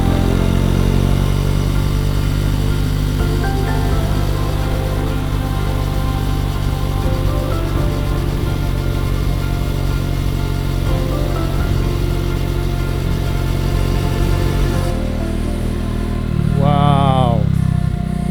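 A motorcycle engine runs steadily along a coastal road in Shimane, Japan, a continuous loud drone with a rise in revs near the end.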